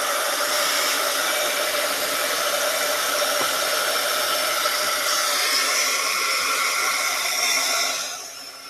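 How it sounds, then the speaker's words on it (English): A heat gun blows hot air across a watercolor page with a steady, loud whooshing hiss held for about eight seconds, then quickly dies away as it is switched off. "When you dry your page with the heat gun, it's going to do this"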